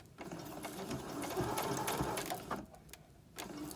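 A sewing machine stitches around the edge of a quilted placemat in a steady, rapid run of needle strokes, pausing briefly near the end before starting up again.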